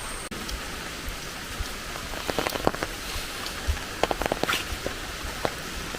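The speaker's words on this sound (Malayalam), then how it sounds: "കാറ്റടിച്ച് താഴ്ത്തിട്ടേക്കുന്ന ഭയങ്കര മഴയല്ലേ" Heavy rain driven by wind patters densely and close on nearby surfaces, a constant wash broken by louder scattered drops and splashes, with no voices.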